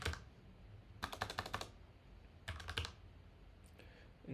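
Typing on a computer keyboard in short quiet bursts of rapid clicking keystrokes, separated by pauses, heard close and alone.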